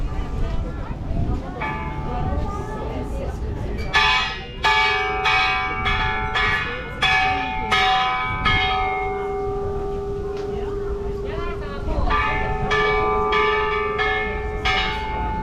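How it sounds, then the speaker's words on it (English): A bell at Hiroshima, Japan, near a paper crane booth, is struck repeatedly in an uneven rhythm, each loud ringing strike leaving a long sustained hum that overlaps the next, close and clear, with a person speaking softly at times. "I'm going to ring the bell."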